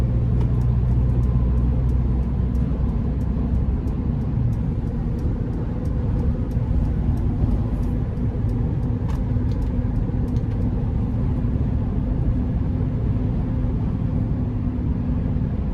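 2023 Sprinter Luxe conversion van with a turbo four-cylinder engine cruising on an interstate, a steady low engine drone and road rumble heard from inside the cabin throughout.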